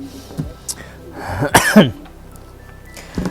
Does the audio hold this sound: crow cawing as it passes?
no